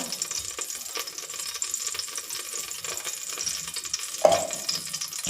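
Ghee heats in a pressure cooker on a home stove while ghee pongal is being made, giving a steady soft sizzle with light scraping and one brief clatter near the end, and no talking.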